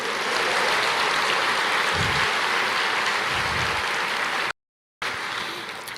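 A church congregation claps continuously in a broad, even patter, with two brief low thumps partway through and a sudden short gap before the clapping resumes and fades slightly.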